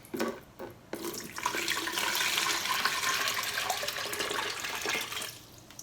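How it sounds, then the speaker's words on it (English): Water pours steadily into a container for several seconds after a couple of small knocks, a continuous splashing rush that fades at the end. "by putting this water back in here"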